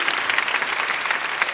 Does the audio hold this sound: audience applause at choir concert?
yes